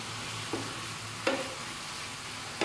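Minced pork with holy basil being stir-fried in a pan, a steady low sizzle under a few sharp scraping strokes of the spatula, close and fairly quiet with no talking.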